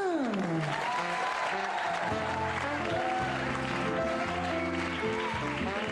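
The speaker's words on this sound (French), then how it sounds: "Mesdames et messieurs, je vous demande d'applaudir Oudin le magicien" An audience applauds a magician's stage entrance on a comedy show while fanfare-like music with a descending swoop and punchy chords plays over the clapping, which stays fairly soft throughout.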